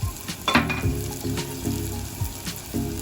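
Spices and chopped tomato roasting in a pan for sambar, sizzling steadily with rhythmic stirring scrapes repeating about once a second, close and moderately loud.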